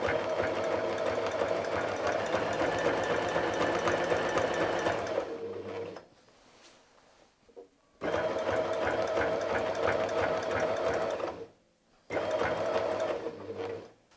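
Sewing machine running a wide zigzag stitch along a quilt appliqué, loud and close in long steady runs broken by two short pauses.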